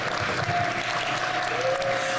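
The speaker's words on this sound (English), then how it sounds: "By a round of applause, how many of you enjoyed your lunch?" A summit audience claps in a continuous wash of applause, with a faint tonal hum running under it.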